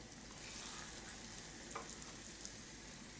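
Venison testicles fry in a shallow pan of oil, a steady close crackling sizzle with a few small pops, constant and alone without voices.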